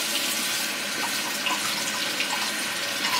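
Warm water pouring steadily from a tap for face washing, a continuous close hiss and splash that runs unbroken without any talking.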